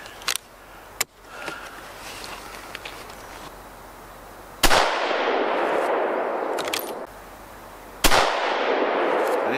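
Rifle shots from a HEYM Ruger No 1 at about 100 yards, two loud sharp cracks spaced a few seconds apart, each followed by a long rolling echo and decay, with smaller clicks and handling noise before them.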